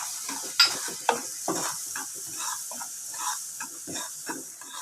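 Half a cup of semolina (rava) goes into a hot pan for ukkarai sweet and is stirred. A close, steady hiss runs under repeated soft scraping strokes, with a few sharper clicks from the utensil, and no voices.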